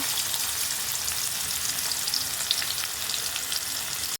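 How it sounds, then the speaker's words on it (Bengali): Onions frying in oil reused from fried fish heads, for a Bengali muri ghonto dish: a steady, loud, dense sizzle with crackling pops, running continuously and cutting off abruptly at the very end, with no voices. "পেঁয়াজ ভেজে দিচ্ছি"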